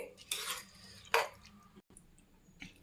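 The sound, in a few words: stirring methi matar pulao in a pot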